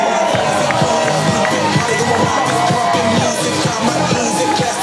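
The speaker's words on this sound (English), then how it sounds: "Allez, Ottawa, on fait du bruit!" Spectators cheer and shout along the finish stretch of a half marathon at an army run in Ottawa, a continuous loud crowd roar with whoops and voices mixed in throughout.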